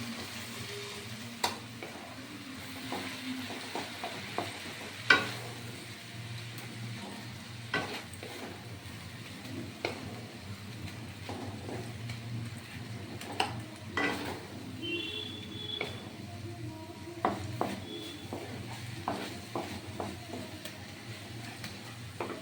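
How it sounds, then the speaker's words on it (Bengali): Khoa and sugar stirred in a pan for carrot sandesh, with a low frying hiss and a spatula's irregular scraping and tapping clicks scattered across the stretch, fairly quiet, no talking. "চিনি আর ক্ষীর দিয়ে এটা নাড়তে থাকবো"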